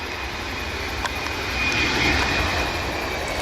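A Southwest airliner's engines roar steadily at Buffalo airport at night, a loud, sustained jet drone with a thin high whine running through it and no voices.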